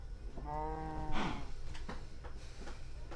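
Cows moo in the Crazy Craft video game, one long drawn-out bellow followed by a few softer grunting calls, fairly close and loud with no talking.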